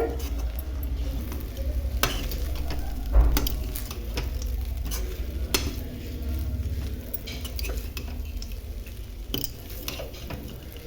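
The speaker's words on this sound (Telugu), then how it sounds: "ఇప్పుడు ఒకసారి మొత్తం ప్రాపర్గా కలుపుకుందామండి" A spoon scrapes and stirs poha upma with fried peanuts and cashews in a pan, soft sizzling underneath and irregular sharp clinks against the metal, close and steady with no voices.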